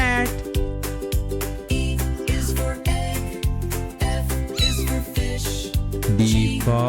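A cat meows over a bouncy children's phonics nursery song with a steady thumping beat.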